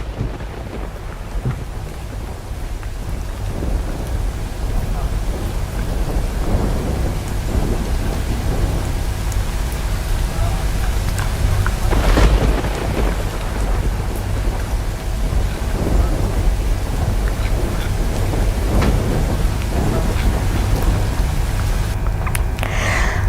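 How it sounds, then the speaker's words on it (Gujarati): Heavy rain pours steadily and loudly over rural Dahod district, Gujarat, with a deep rumble of thunder rolling through midway. "ગ્રામ્ય વિસ્તારોમાં અવિરત વરસાદ વરસી રહ્યો છે"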